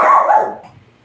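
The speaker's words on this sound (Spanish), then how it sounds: "Le está ladrando ahí, nada más." A single loud, close dog bark that trails off quickly, heard in a home kitchen with no talking.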